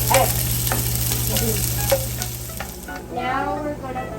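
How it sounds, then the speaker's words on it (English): Eggs frying in a pan give a steady, close sizzle with crackling bursts and a few clinks from stirring, with no talk over it. "I'll just cook eggs."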